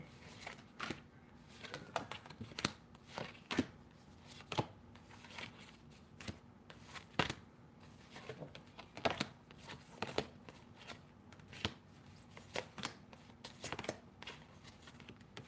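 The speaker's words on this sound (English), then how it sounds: "Guess I could start getting my cards together, eh?" Playing cards being shuffled and handled, a run of sharp riffling bursts and soft card taps repeating irregularly for about fifteen seconds, fairly close and quiet, with a low steady hum beneath and no talking.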